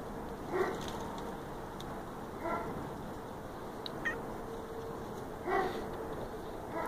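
A cat up in a persimmon tree meows repeatedly, four or so short plaintive calls spaced a couple of seconds apart, faint and a little distant over outdoor background hiss.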